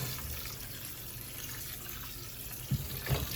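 Chopped chow chow relish vegetables are rinsed under a running tap, a steady close rush of water with a couple of soft splashes near the end.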